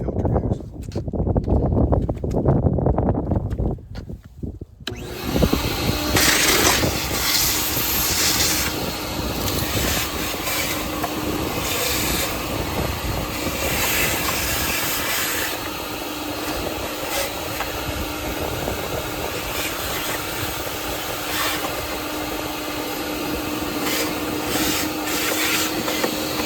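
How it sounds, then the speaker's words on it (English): Shop vac sucking dead bugs, dirt and leaves from under the engine air filter cover of a 2017 Honda Civic, a steady loud whooshing roar with rattling debris, preceded by a few seconds of handling noise. "take my shop vac here and I'm going to just suck the dead bugs and the dirt and the leaves from underneath this cover"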